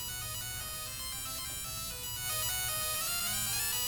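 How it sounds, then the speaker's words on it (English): A two-voice Pac-Man theme is synthesized from one-bit pulse waves. It plays as a dense, buzzy chiptune with harsh, harmonic-rich tones in a short continuous phrase. "this is a two-voice Pacman theme that uses only two possible values for the samples"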